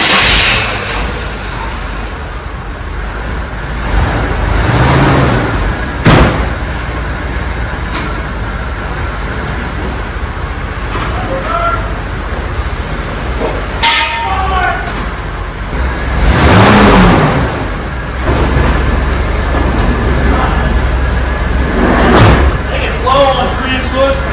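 A bagged Chevy van engine revs and rumbles as the van rolls, loud and close with surges and bangs, while people talk over it.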